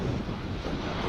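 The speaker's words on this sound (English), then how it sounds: "Boy, that wind." Strong wind buffets a microphone outdoors beside a runway at DFW airport on a sunny, gusty day, a steady loud rumbling roar with no pauses.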